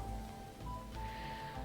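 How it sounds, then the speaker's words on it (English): Rain pours steadily in a game environment, a low, even wash of hiss under quiet background tones, with no one speaking. "The rain started raining more."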